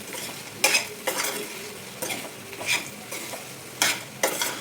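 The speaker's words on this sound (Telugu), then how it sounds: "అదేవిధంగా 2 స్పూన్స్ కారం వేసుకొని మొత్తం తిప్పేసుకుంటాం." Chili powder being stirred into frying bitter gourd curry, a spoon scraping the pan in repeated bursts over a steady sizzle, close and fairly loud with no talking.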